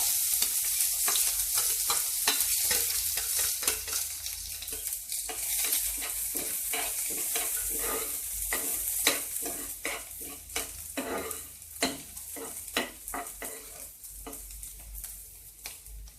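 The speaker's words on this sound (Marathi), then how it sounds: "कांदा असा परतून घ्यायचा." Chopped onion sautés in hot oil over a low gas flame for a sprouted moong curry, giving a steady close sizzle broken by regular scraping strokes of stirring in the pan throughout.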